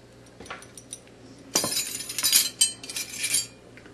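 A spoon or spatula stirs soy sauce into mushrooms in a pan, quiet at first with a few faint taps, then a burst of scraping, clinking stirring strokes near the mic for about two seconds.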